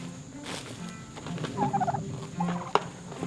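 Turkeys gobble and call from close range, several short warbling bursts and one sharp yelp, heard alone over a quiet outdoor background.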